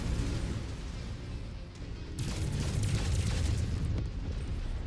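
Missile explosions in a mech combat video game, heavy rumbling blasts with a sharp burst near the middle and another impact toward the end, over continuous loud battle noise.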